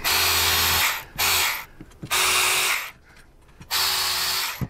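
A power tool spins out bolts from the fairing bracket on a Harley-Davidson Street Bob, whirring loudly up close in three bursts with brief pauses between them.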